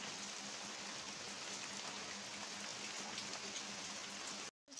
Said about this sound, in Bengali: আর বাইরে বৃষ্টি পড়ছে।